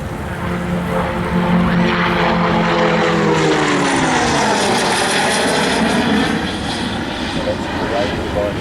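Gloster Meteor F8 jet in a combat flight game, its engine roar loud and steady throughout with a rising, shifting whine, heard alone without talk.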